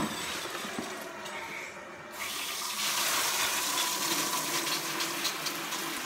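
Shower water pours steadily over a plastic-potted houseplant indoors, a continuous hiss that grows slightly louder and fuller partway through, with no voices.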